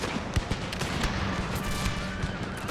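Musket volleys in a Total War battle set in the Thirty Years' War, a dense crackle of scattered shots and sharp reports, some close and some distant, running continuously with no voices.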